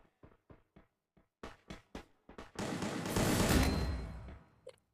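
Gunfire from the video game Free Fire: a string of sharp single shots in quick rhythm, followed by a loud sustained burst of rapid fire, then a few more isolated shots.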